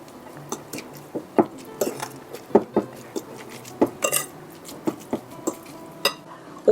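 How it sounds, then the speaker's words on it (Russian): Salted, peppered zucchini mixture stirred in a bowl with a spoon, irregular close clinks and scrapes of utensil against dish, no talking. "Хорошо все перемешиваю."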